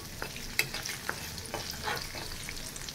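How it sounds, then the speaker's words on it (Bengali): Okra sizzles steadily in a pan while a utensil scrapes and taps against it a few times. "সন্ধ্যেবেলায় মেয়ের জন্য একটু ভেন্ডি ভাজছি"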